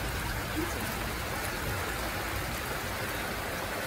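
Steady rain falls outside on a monsoon day, a dense, even hiss that runs unbroken and fairly close until it cuts off at the very end.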